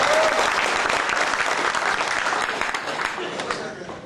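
An audience at a business talk breaks into full, dense applause that holds steady and loud, then slowly fades, with a voice faintly present beneath the clapping.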